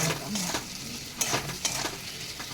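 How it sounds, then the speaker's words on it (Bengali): Taro stems being stir-fried with spices in a pan, a close steady sizzle broken by several scraping stirs of a spatula. "কাঠি কচুর মধ্যে দিয়ে দিচ্ছে মশলা দিয়ে বা কষাতে হবে"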